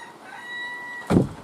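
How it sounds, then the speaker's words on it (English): A single loud rooster crow bursts out near the end after a quiet stretch with a faint high tone. "I ended up letting the roosters out."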